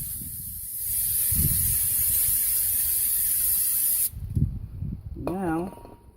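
Cleaner sprays onto the brake rotor and parts of a Toyota Sienna in long hissing bursts, one steady blast then a shorter spurt, followed by a brief squeaky rattle.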